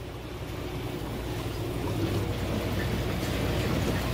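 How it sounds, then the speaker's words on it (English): Water fills and flows through an 80-watt AquaUV ultraviolet sterilizer as a steady, close broadband rush and hiss that holds at an even level throughout, with no voices. "It's filling up. I can hear it."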